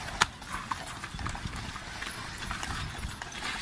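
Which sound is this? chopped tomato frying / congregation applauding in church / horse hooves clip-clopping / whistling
horse hooves clip-clopping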